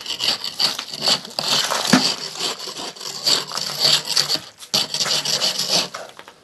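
A practice plaster coat is scraped back off a wall, giving loud, close, gritty rasping strokes in quick succession with brief pauses between passes.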